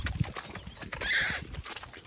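A draught horse plods through mud with soft, squelching hoof falls, close by, followed by a brief bright burst of sound partway through.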